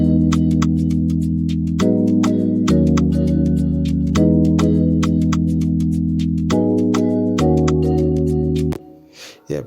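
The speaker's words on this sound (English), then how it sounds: "So I then added this marimba from Triton." A Triton marimba plays steady repeating notes over sustained chord tones, shaped by EQ cutting lows and highs and a delay, forming a loud, continuous Afroswing beat that cuts out abruptly near the end.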